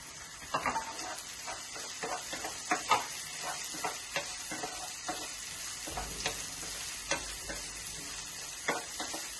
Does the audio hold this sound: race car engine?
no